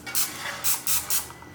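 Cooking spray hisses from a can into a baking pan for coconut chi chi dango, four short, sharp bursts in quick succession, close and fairly crisp.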